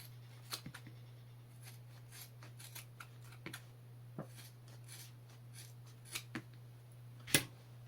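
Standard trauma shears snip through material in a handful of quiet, crisp cuts spaced irregularly over a faint steady hum, with one sharper, louder snip near the end.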